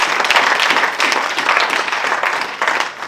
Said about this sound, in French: Applaudissons pour Dieu